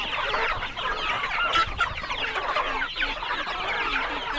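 Chickens on a farm cluck continuously, many overlapping soft calls forming a busy, steady chorus at moderate loudness with no talking.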